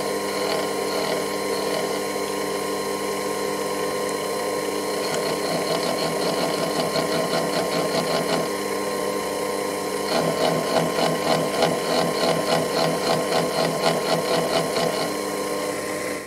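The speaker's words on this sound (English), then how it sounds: "the end mill seemed to have no difficulty cleanly cutting through the threads" An end mill cutting tap threads on a Proxxon PD 250/e lathe, a steady motor whine with rapid, rhythmic ticking chatter that comes and goes across passes, close with no voices.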